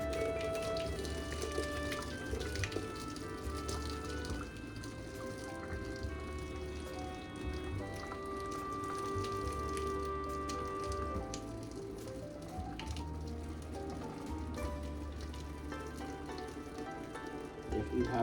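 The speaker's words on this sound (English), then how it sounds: "we're getting ready to strain our pasta. So I don't have a strainer. I do it the old-fashioned way." Hot water and boiling pasta pour and splash in a steady stream as the pot is drained without a strainer for macaroni salad, with clinks of pot and lid mixed into the continuous watery rush.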